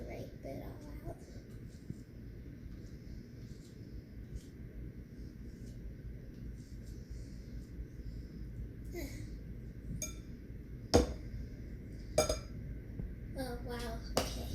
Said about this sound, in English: I think I'm gonna use my spoon to scrape it all out.